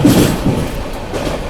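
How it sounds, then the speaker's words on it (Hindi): The Puri–Anand Vihar Purushottam Express goes by, a loud, steady low-frequency rumble of rolling coaches with soft rhythmic clatter, close and continuous throughout, with no talk. "पुरी आनंद विहार पुरुषोत्तम एक्सप्रेस"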